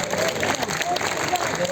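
Brief patch of crowd clapping at a political speech in Ujjain, scattered applause under murmuring voices and a faint whistle-like tone.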